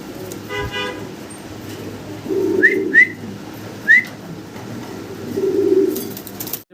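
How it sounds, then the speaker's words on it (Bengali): Pigeons in a loft, including a blue bar dragon pigeon, give a few short calls and soft coos over a steady low background hum, with brief rustling bursts like wings between them. "কবুতরগুলো সুস্থ সবল আছে দেখতেই পারতেছেন কলাফালি উড়াউড়ি করতেছে"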